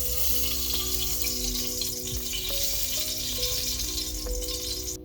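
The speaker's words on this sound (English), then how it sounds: "We'll do a temperature test by adding a few drops of water, and once it forms balls" Drops of water hitting a hot pressure cooker during a beef curry preparation, crackling and sizzling continuously, with a few sharp pops and a hissing wash throughout.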